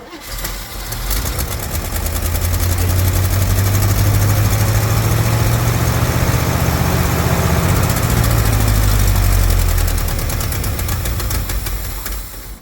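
A 1957 Chevy engine, run after sitting for 35 years with a faulty accelerator pump, cranks and then idles roughly, a loud, steady, low rumble that swells and fades over about twelve seconds.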